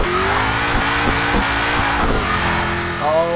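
Hot Wheels Mustang in Forza Motorsport 6 racing game at Road Atlanta, its engine revving hard and loud with rising and falling pitch through gear changes, close and continuous.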